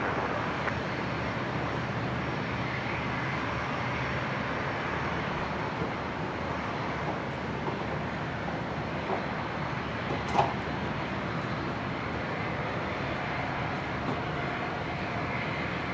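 An Airlink ATR turboprop taxiing at Brisbane airport, a steady distant broadband engine drone that holds an even level throughout, with one brief faint click partway through.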